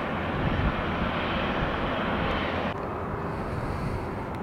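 A heavy jet aircraft at Tampa International Airport roars in a loud, broad, continuous rumble close by, with the tone shifting slightly partway through and no talking.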